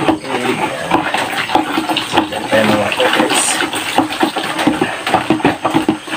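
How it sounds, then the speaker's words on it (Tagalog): A homemade dishwashing liquid mixture being stirred in a container, giving a steady, loud, continuous sloshing and swishing throughout. "Haluin lang natin, haluin."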